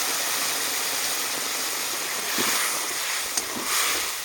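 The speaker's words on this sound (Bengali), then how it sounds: "এবার একটু জল দিয়ে দেব।" Spiced curry in a pan hissing and bubbling after water goes in, a broad steady roar with brief surges and a small clink.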